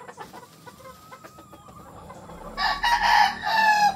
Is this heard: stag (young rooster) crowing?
yes